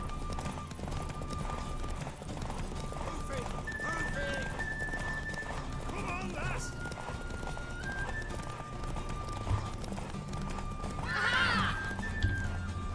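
A horse in a race in The Witcher 3 gallops with steady hoofbeats and whinnies once near the end, over a background game music score.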